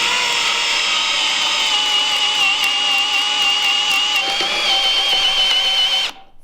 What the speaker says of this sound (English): Do you want to hold this and I'll try drilling?